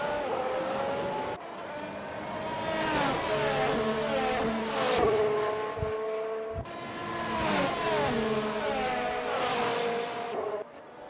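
Race cars from Assetto Corsa lapping Suzuka during a Japanese Grand Prix, engines screaming and shifting through gears as a pack sweeps past, rising and falling pitches overlapping loudly with no talk.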